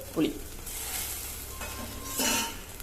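Brinjal and tamarind sautéing in a pan: a steady low sizzle with two brief scraping stirs of a spatula, close and moderately loud, no voices.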